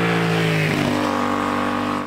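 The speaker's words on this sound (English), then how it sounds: "We've got motorbikes zooming past," A motorbike engine revs loudly close by, its pitch sliding as it zooms past and then settling into a steady drone that fades slightly at the end.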